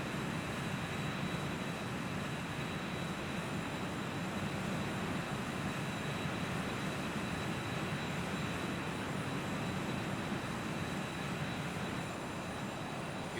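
A Challenger 300 business jet's engines drone inside the X-Plane 11 flight simulator, making a steady, unbroken roar with a faint high whine running continuously through it.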